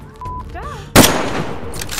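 A single loud, close gunshot in DayZ bursts out after a brief warbling tone and a quiet stretch, followed by a noisy, ringing tail.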